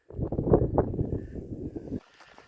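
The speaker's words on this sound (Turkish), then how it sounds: "Şiddetli de rüzgar var." Strong wind on a hilltop buffeting the microphone in a loud low rumble for about two seconds, then dropping away abruptly to a faint hiss.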